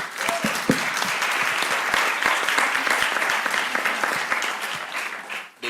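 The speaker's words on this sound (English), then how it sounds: "let's give another applause for them." An audience breaks into sustained applause, a dense, loud wash of clapping with some sharper individual claps standing out, held steady throughout before tailing off at the end.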